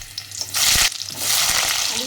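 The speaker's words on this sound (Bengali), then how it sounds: "এবার ভেজে নেব" Potatoes sizzle in hot oil in a home kitchen while a cabbage and fish roe dish is being cooked, with bursts of loud frying hiss and a brief stirring clatter.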